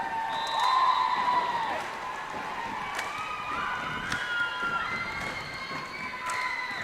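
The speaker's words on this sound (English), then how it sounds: "And the crowds are going wild, starting to chant" Crowd cheering and shouting fills a gym at a 14U youth basketball championship game between the Plaster Rock Panthers and Wolfpack, a steady roar with sharp whistle-like peaks and thuds, with a few voices rising above the noise.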